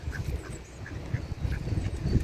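Ducks quack at a pond on the Forty Hall Estate in London, scattered nasal calls from several birds at moderate distance over a steady outdoor background with no voices.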